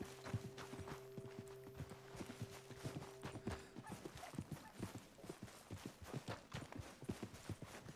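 Horse hooves clip-clop steadily in Red Dead Redemption 2, a quick, even run of hoofbeats that continues throughout, fairly faint, with a low hum under the first half.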